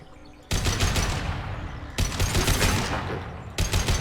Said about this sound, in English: Actually, let me switch to the assault rifle.